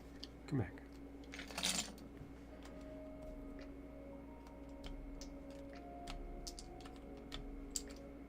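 Faint, sparse key clicks from someone typing on a rebuilt QK100 mechanical keyboard, irregular and spaced out over a quiet, slightly humming room.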